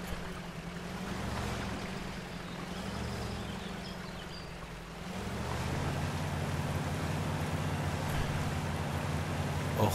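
Fast river current in MudRunner, a steady broad rush of water that swells louder about halfway through, with a low engine drone running underneath throughout.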